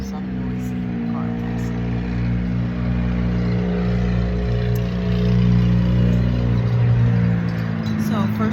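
Steady low engine drone and road rumble inside a moving car, a constant near hum that swells slightly toward the end, with someone talking over it.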